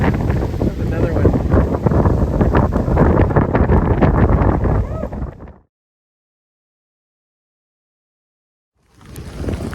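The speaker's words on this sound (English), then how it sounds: "Winds are gusting just shy of 50 miles an hour right now." Strong Hurricane Milton wind gusts roar and buffet the microphone loudly for about five seconds, cut to silence, then resume near the end.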